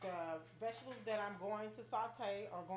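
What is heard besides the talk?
No everyday noise stands out behind the speech.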